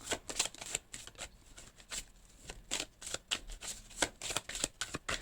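A deck of tarot cards is shuffled close by, a quiet run of rapid papery flutters and riffling snaps in uneven bursts with no talking.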